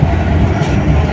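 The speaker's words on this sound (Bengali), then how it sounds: "পাশ দিয়ে ট্রেন যাচ্ছে আর আমরা চলেছি দমদম মেট্রো স্টেশনে।" A train runs alongside an elevated Kolkata Blue Line metro near Dum Dum, a loud, steady rumble of rolling wheels and carriages filling the moment with no voices.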